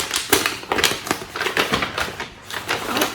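A paper envelope holding a cross-stitch kit being torn and pulled open, a run of sharp crinkly rips and rustles in uneven bursts, close up.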